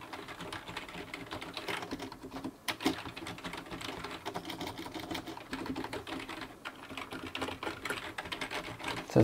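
Rapid, continuous clatter of a Cooler Master CM Storm Octane computer keyboard being typed on, close and fairly quiet, with no voices.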